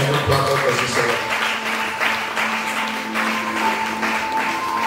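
Church congregation clapping and cheering in praise of the Lord, a dense continuous wash of applause with voices mixed in throughout.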